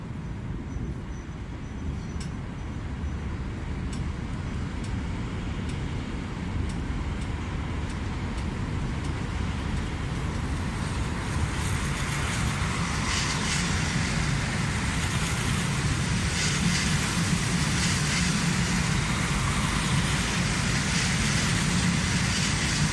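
Continuous low rumble of rail traffic in Cologne-Deutz throughout, a train rolling past with steady wheel noise and a brighter rush building toward the end.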